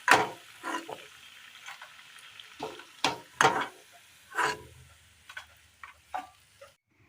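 Crispy Kerala snacks made with lentil flour fry in hot oil as they are scooped out, bursts of sizzling and utensil scraping in uneven spurts with quiet gaps between, close by and without talk.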